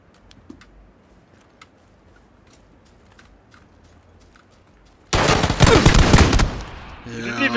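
Gunfire in the PlayerUnknown's Battlegrounds video game: after several seconds of near-quiet with faint clicks, a loud sudden burst of rapid automatic shots erupts and continues for a couple of seconds.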